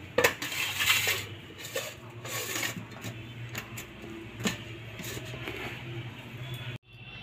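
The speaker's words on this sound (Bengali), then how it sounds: "বেগুনগুলো ধুয়ে ধুয়ে উঠাচ্ছি" Cut eggplant pieces washed in a bowl of water and lifted out, with close, irregular clattering and knocking against the vessel, sharp taps scattered among softer rustling before an abrupt stop.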